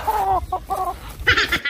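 A chicken clucks close by in a few quick, throaty bursts, ending in a higher, raspier squawk.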